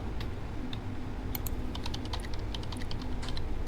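Rapid keystrokes clatter on a computer keyboard at a hospital nurses' station, irregular bursts of clicks over a steady low background hum, with no voices.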